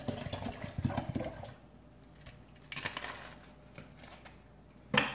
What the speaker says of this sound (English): you're going to take 12 ounces of club soda, or you're going to pour in a can of Sprite or 7-Up